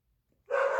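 After a near-silent pause, a dog gives one sharp bark that rings on to the end, loud and close, with no voices.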